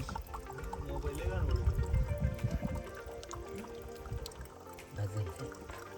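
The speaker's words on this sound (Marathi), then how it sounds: "नॅचरल पाण्याचा झरणा" Water from a natural mountain spring on the Ratangad fort trek in the Sahyadri hills flows steadily as bottles are filled, a continuous splashing gurgle that swells and eases, with voices talking over it.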